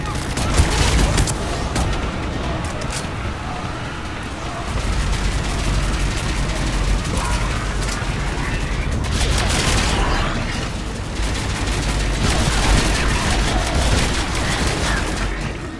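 Loud, sustained combat gunfire in the Mass Effect 3 video game, with dense bursts of automatic fire and booms running continuously over sixteen seconds while voices speak at times.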